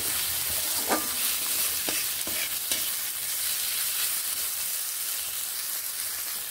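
Tomatoes stirred and fried in a pan as filling for chicken patties, with a steady high sizzle throughout and a few soft spatula scrapes and knocks early on, close and without talk.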